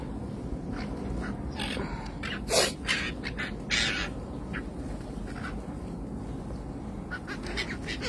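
Birds call repeatedly outdoors, with a few sharper squawks standing out over a steady wash of background noise.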